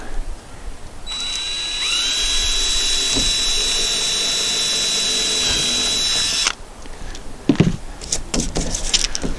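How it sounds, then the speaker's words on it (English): A power drill whines steadily for about five seconds at high pitch while drilling a hole in a roof, then stops, followed by scattered clattering and knocks. "I'm going to drill a hole"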